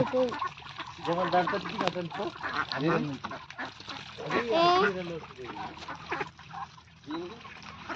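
Ducks feeding in water, picking insects from the surface, with repeated loud quacks and splashing close by while people talk in the background.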